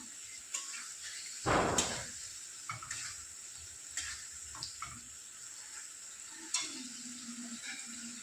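Pointed gourd frying in a pan while being stirred, with a low steady sizzle broken by one loud scraping stir and a few lighter clinks and scrapes, no voices.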